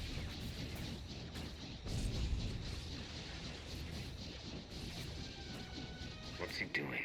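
Cannons firing during a space battle in the video game Star Wars: The Old Republic, heavy booms and crashes layered over continuous game noise.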